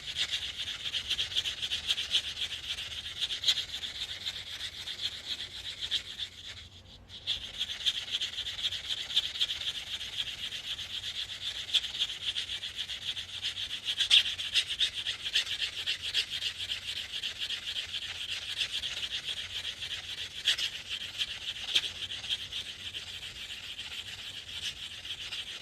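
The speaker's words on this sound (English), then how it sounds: "I'll keep sanding a bit." Steady abrasive rasping of sandpaper working a fine silver coin ring, a continuous close scratchy rub that pauses briefly once and then carries on at an even level.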